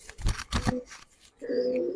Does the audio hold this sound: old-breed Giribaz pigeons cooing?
yes